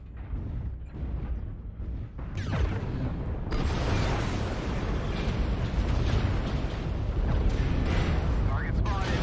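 Heavy weapon fire and explosions in MechWarrior Online, starting with scattered booms then swelling into a continuous loud barrage of blasts and impacts that fills the rest of the stretch.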